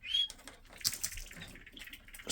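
Hens in an indoor birdroom in winter, with faint chirps, short calls and soft wing flutters that come and go at a low level, and no talking.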